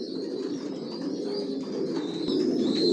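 Young racing pigeon chicks in a loft make soft repeated cooing and faint chirps, close and fairly quiet over a steady low background hum.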